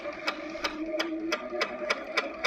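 A Sweet 16 sewing machine quilting at half speed gives a steady mechanical hum. Crisp, evenly spaced needle strikes arrive about three times a second, close and clear, with no talking.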